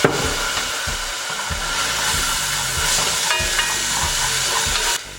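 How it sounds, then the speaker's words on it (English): Ginger and shallots sizzle steadily in a sauce pot over medium heat, a loud continuous frying hiss with soft clicks from stirring, which stops abruptly at the end. "We're gonna sweat this down over medium heat until our shallots go translucent"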